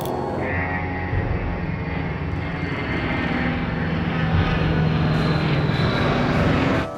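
An aircraft takes off, its engine roaring as a steady, loud, broad drone that swells slightly toward the end before cutting off.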